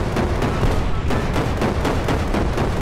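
Lego tank cannons fire in the Brick Rigs video game, a rapid, dense barrage of loud booming shots and blasts repeating continuously without pause.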